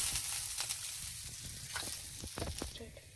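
Oil crackles in a frying pan while fish curry is being prepared, right after tilapia was fried and lifted out; a steady close sizzle runs under spoken commentary, with soft clinks from stirring.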